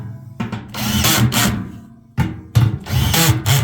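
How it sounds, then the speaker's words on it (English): A power drill drives a screw during an HVAC service call involving a blower motor swap, with two loud whirring bursts separated by a short pause, close to the microphone. "And hit it with the drill."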